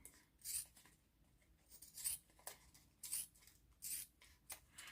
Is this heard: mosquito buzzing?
no